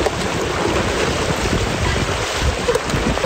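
Waves of icy sea water wash and surge along an Icelandic shore, a loud, continuous rush mixed with gusty wind buffeting the microphone, with no voices.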